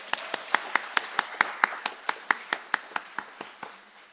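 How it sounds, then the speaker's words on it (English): Rhythmic clapping at a community class on Atlantic trade, sharp regular claps about five per second, close and distinct, fading a little near the end. "can we give a round of applause for Chrystal for this program"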